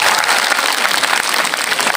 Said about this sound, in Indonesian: Tepuk tangan dulu tuh Bapak ini.